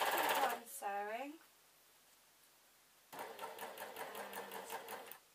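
A serger stitches a denim skirt made from leftovers in a quick rhythmic whir, with a brief winding-up tone, a pause, then a second steady run of rapid stitching close by.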